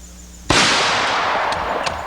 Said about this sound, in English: Yes, 44 Magnums are always loud.